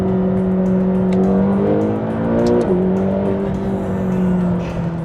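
A 2025 McLaren GTS in track mode accelerates with a loud, close exhaust note, a steady rising engine tone with a brief gearshift dip midway before climbing again.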